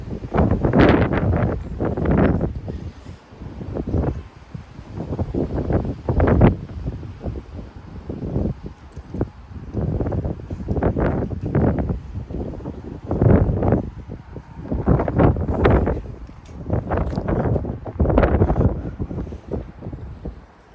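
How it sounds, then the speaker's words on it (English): Strong 50 mph wind gusts roar and buffet the microphone in Frisco, Texas, blowing through fences in continuous surging waves of noise that rise and fall every second or two, loud and close with no speech. "I can hear the wind blowing through the fences."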